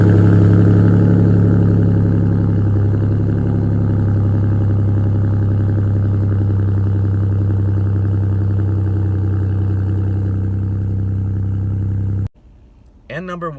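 Ford F-150 with the 2.7L EcoBoost V6 running through a Roush catback exhaust, a loud steady deep idle drone holding for about twelve seconds before cutting off abruptly.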